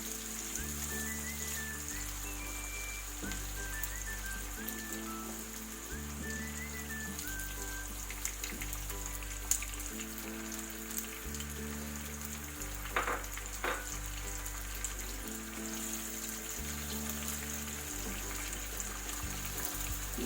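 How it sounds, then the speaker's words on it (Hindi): Two medium onions, finely chopped, fry in a pan for an egg masala curry, giving a steady close sizzle that runs throughout beneath background music with a repeating bass line. "ये प्याज अब हम गोल्डन ब्राउन कर लेंगे।"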